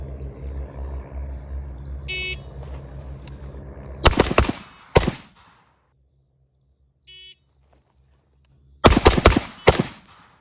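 Gunfire from a close-quarters turn-and-shoot drill comes in two sharp bursts of several loud shots each, separated by quiet stretches with faint background hum and brief beeps.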